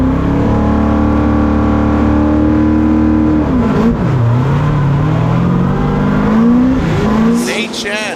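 A Formula Drift car, an NCR 86, revs hard through a drift into an outside zone, its loud sustained engine note dropping and climbing in pitch as the tyres squeal, with commentary running over it.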